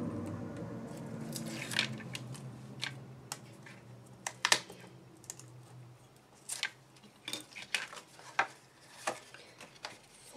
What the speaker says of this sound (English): now all we need to do is just take the backing off.